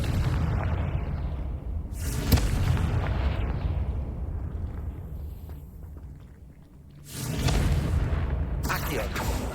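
Confringo blasting-spell explosions in the Hogwarts Legacy video game, booming bursts over a dense, continuous rumble of battle noise, with heavy hits around the start and again near the end.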